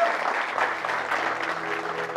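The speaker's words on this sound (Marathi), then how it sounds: "एकदा जरा जोरदार टाळ्या पुन्हा एकदा मंजिरींसाठी" A live audience gives Manjiri a loud, sustained round of clapping that fills the whole moment evenly, with no voices standing out.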